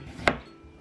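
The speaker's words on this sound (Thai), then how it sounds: "หั่น เป็นชิ้น เล็ก ๆ ยาวๆอย่างนี้นะคะ" A single sharp knife chop slices through pumpkin on a cutting board, brief and crisp, against a quiet background.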